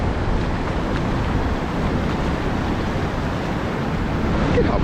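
Pacific Ocean waves washing onto the shore in El Salvador, a steady, loud, broadband roar of surf with wind buffeting the microphone throughout and no talk.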